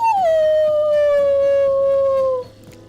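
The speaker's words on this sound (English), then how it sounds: "We look into each other's eyes, then back at the wolves, and together we all howl." Wolves from the video game Hooked on You let out one long, loud falling howl that holds for over two seconds before dropping away, with a faint murmur of other voices beneath it.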